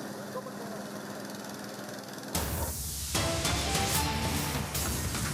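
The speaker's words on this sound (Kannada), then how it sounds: "ಆಪತ್ ಬಾಂಧವ ಟ್ರ್ಯಾಕ್ಟರ್" Tractor engine running amid heavy rain flooding in Anekal, a steady broadband rumble that grows louder and denser partway through, with a voice talking over it.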